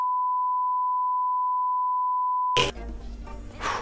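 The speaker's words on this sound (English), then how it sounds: "That's the Bluetooth shutter remote." A pure steady beep sounds for about two and a half seconds as a Bluetooth shutter remote stops a phone recording, then cuts off abruptly into a burst of handling noise and rustle.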